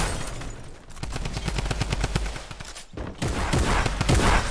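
Rapid, loud, evenly spaced gunshots from a combat shotgun and other weapons in a Fortnite Season 9 match, firing in close bursts with brief pauses between volleys.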